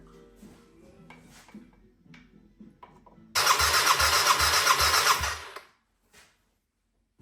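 A Yamaha XS400 motorcycle engine in a cafe racer build: some quiet mechanical clicks and rattles, then the engine cranks and catches with a loud rough roar for about two seconds before cutting out.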